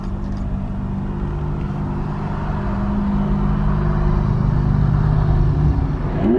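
Cars drive and overtake one another in UK traffic, including a Lamborghini SVJ and a Ferrari 296, with a steady low engine rumble that swells slightly toward the end.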